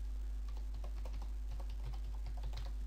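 Rapid key clicks from a computer keyboard as a password is typed, a quick irregular run of light taps over a steady low hum, close and clear with no talking.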